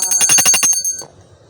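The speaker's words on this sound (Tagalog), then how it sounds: "gagamit ka ng bell para alam doon sa taas na may nilagay ka dito sa baba" A hand bell rung at the foot of a stairway in a tall house to signal the floor above, giving a fast run of bright, ringing strikes for under a second, then stopping as a faint voice follows.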